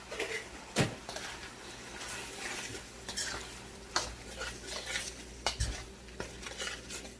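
Peas are stir-fried in a pan for shrimp fried rice, producing a low sizzle under repeated utensil scrapes and sharp metallic clinks against the pan.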